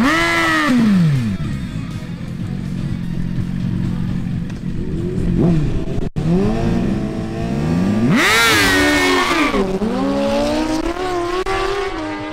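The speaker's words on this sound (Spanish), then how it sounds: "El siguiente duelo es entre la Honda CBR1000RR de Dan Monsalve versus la Suzuki GSX-R1000 de Diego Sanabria" Sport motorcycles at a quarter-mile drag race in Barranquilla, a Honda CBR1000RR against a Suzuki GSX-R1000, rev loudly with rising and falling engine pitch, hard acceleration and shifts, sustained and close throughout.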